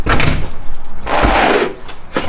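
A storage unit door is opened with a loud metallic rattle and rolling scrape. It sounds close and fills a sustained stretch between sharper knocks.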